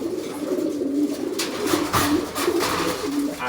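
Pigeons coo close by in a loft, repeated throaty rolling coos overlapping in a steady rhythm, with no talk.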